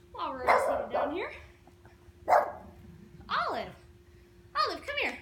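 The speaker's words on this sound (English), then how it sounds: "Stop barking." A dog barks and yips in several bursts, loud and fairly close, with a whining edge to some calls, set against quiet outdoor poolside ambience during a seated workout session.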